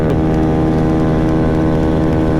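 Modified 50cc Maddog scooter engine held at high RPM around 9,000, a loud sustained buzzing whine close up with no talk.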